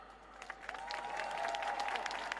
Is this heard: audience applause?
yes